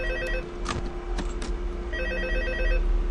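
A telephone rings in the video game Five Nights at Freddy's 2, repeated electronic bell trills in two bursts separated by a brief pause, loud and close over a steady background hum, with no talking.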